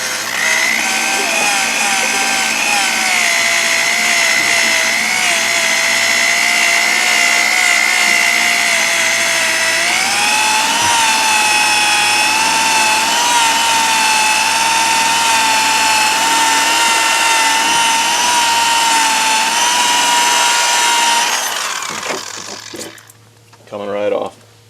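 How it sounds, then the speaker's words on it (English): Rubber eraser wheel spun by a drill to strip badge adhesive off a Chevy Duramax truck gives a loud, sustained high-pitched whine that steps up in pitch midway, then cuts off near the end before one brief final burst. "We got the adhesive all removed with the rubber eraser."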